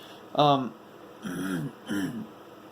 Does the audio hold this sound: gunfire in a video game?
no